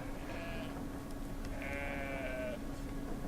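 Sheep in a video game give two wavering bleats, one short and one longer, over a constant low background hum, with no talk.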